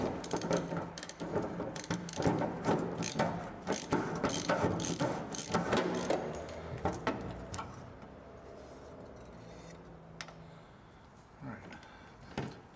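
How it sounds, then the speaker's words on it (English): Ratchet wrench clicking while working on the fuel system of a Mercedes-Benz 380SL, a series of close, irregular mechanical clicks and knocks that thin out toward the end. "Let's see if we can use the ratchet."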